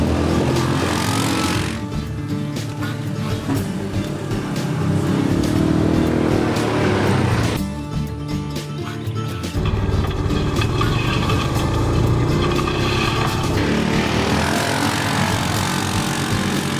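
A 2015 Yamaha Viking VI six-seat side-by-side driving, its engine droning loud and close with rising and falling revs and a steady rumble throughout.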